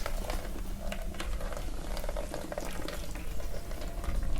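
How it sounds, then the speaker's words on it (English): Rain falls in the video game Cloud Climber as a dense, continuous hiss of patter and splashing that holds at a steady level throughout. "The water! It's raining!"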